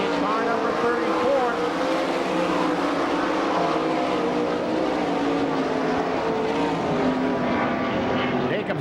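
Several sprint race cars with the All Star Circuit of Champions roar around a dirt track in Franklin, Pennsylvania, a continuous loud droning engine wail heard from trackside that rises and falls as the cars pass.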